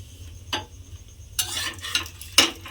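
A paratha frying in a little oil in a pan, with a few short hissing bursts of sizzle as it is pressed and turned, close and fairly loud between quieter gaps, no speech.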